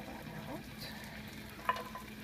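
Garlic fries in rendered pork fat in a pan, giving a soft, steady sizzle with a faint scrape or tap of stirring partway through, close but quiet.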